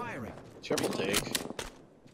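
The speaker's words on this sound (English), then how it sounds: "Shots fired at me" Gunfire from Apex Legends sounds as a brief burst of loud, rapid shots over a busy game mix, with a player's voice talking over it.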